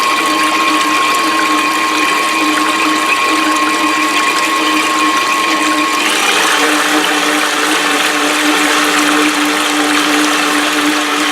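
A KitchenAid stand mixer runs with water in its bowl, its motor whirring loud and continuous before shifting to a brighter, faster-sounding drone partway through as the speed is raised.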